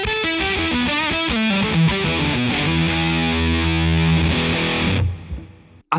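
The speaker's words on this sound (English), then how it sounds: "And this is the GT-1000 Muff Fuzz." Electric guitar played through the Boss GT-1000 Muff Fuzz effect, a thick, heavily distorted riff of several chords and notes that ends in a sustained ringing chord before cutting off.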